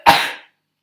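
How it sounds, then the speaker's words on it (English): A single short, sharp sneeze bursts out close up and fades within half a second, followed by silence. "I'm going to sneeze."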